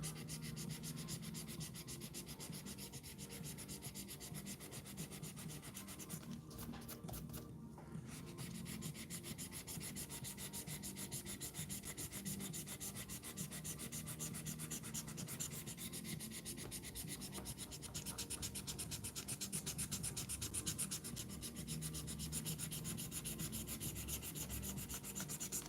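Steady back-and-forth rubbing of 240 and 320 grit sandpaper across a wooden surface, continuous and close for the whole stretch with only a brief pause, with no talking.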